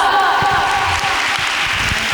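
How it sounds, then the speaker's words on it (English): Audience applause at a school celebration event, a steady wash of clapping from a crowd that stays loud and dense throughout, with faint voices mixed underneath. "Big round of applause."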